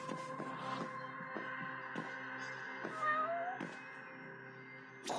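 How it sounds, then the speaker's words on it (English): A cat in the video game Judgment, at a crime scene near fish, gives a soft, drawn-out meow over a steady hum and occasional light clicks. "Oh look, a cat."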